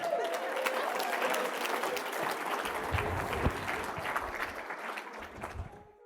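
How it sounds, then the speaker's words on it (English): An audience applauds after a song, a sustained wash of clapping from a partly full room that keeps going for several seconds, then fades near the end. "just like here, half the room applauded"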